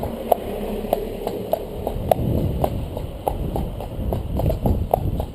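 Horse hooves clip-clop at a steady walking pace on hard ground, close and distinct, with a faint breeze behind them.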